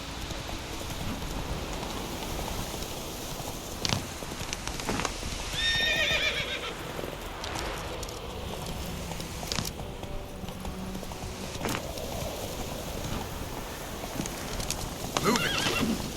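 A horse gallops with rhythmic clip-clop hoofbeats and lets out a clear neigh in The Witcher 3, rain falling steadily around it and a few sharp game effects cutting in, the hooves close and continuous.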